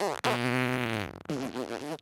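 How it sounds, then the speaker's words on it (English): A loud, drawn-out fart sound effect with a buzzing, tonal quality, followed after a short break by a second, wobblier burst. "these things make really good farts"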